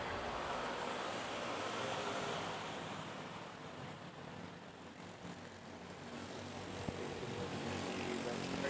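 At Manila airport's Terminal 2, a distant AirAsia airliner pushing back blends into a steady broad roar of aircraft engines and wind-like wash, fairly faint and continuous, with a brief sharp click near the end.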